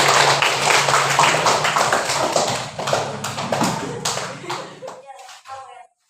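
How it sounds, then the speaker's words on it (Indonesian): Classroom of students clapping together on cue in an Islamic ethics lesson, a dense burst of hand claps lasting about five seconds before it abruptly stops, with some chatter mixed in. "Oke, tepuk tangan."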